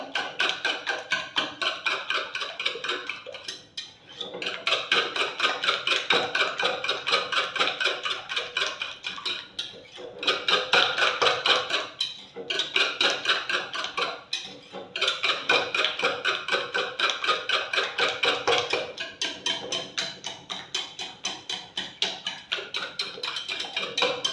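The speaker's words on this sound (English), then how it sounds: "Whisk it very well." Butter cake batter whisked by hand in a bowl: fast, steady scraping and ticking strokes that run almost continuously, with a few brief pauses, close and fairly loud with no talking.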